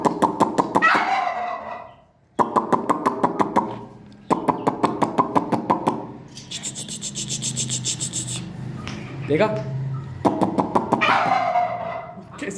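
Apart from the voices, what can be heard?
turkey calling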